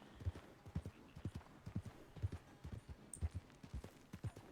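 A horse in the Western game RedM walks at an unhurried pace, its hooves clip-clopping in a steady, even rhythm of distinct dull thuds, close and fairly quiet.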